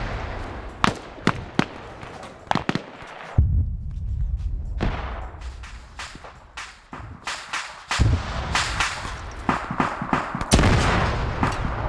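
Gunfire and artillery in a large multiplayer PvP war game, with sharp single shots and quick bursts cracking irregularly, some close and heavy, others distant, with a rumbling background between them.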